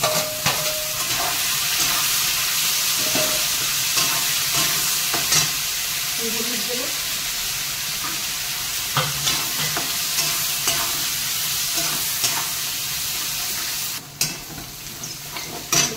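Steady sizzling of boiled peas frying in a pan with occasional stirring scrapes and clinks, close and moderately loud throughout.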